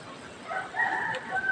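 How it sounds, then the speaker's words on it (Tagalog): A rooster crows faintly in the background, a brief drawn-out call heard at a distance over low room noise, with no voices. "Yung aking chicken yan. Tumitilak talaga."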